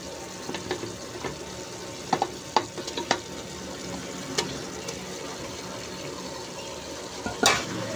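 Coarsely pounded spinach is stirred into a pan of frying onion and spices for green dal sabzi, with soft sizzling beneath a few sharp utensil scrapes and clinks.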